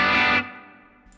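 Electric guitar played through a Helix amp model with the tone rolled down, a brief distorted strum that rings loud for a moment, then cuts off and fades into a soft decaying tail.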